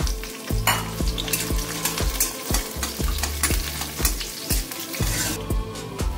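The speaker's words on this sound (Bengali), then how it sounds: "এবার ওই তেলেই, মেথি ভাজা তেলে কটা কাঁচা লঙ্কা ফোড়ন দিয়ে দিলাম।" Green chillies fry in oil already flavoured with fried fenugreek seeds, sizzling steadily up close while a utensil knocks and stirs against the pan in a quick, irregular rhythm.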